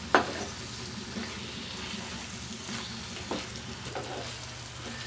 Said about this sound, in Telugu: ముక్కలు పులుపు పట్టేంత వరకు కూడా మెల్లిగా ఉడికించుకుందాం